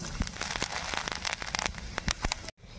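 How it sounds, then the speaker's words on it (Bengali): Bay leaf, dry chilli and cumin sizzle in hot oil left from frying fish, giving a dense, close crackle of rapid pops and spits that briefly cuts out near the end. "ফোড়নে দেবো তেজপাতা, শুকনো লঙ্কা আর জিরে"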